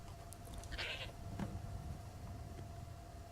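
A goat in the video game Skyrim gives a short wavering bleat, then a fainter second call, over a steady low game ambience.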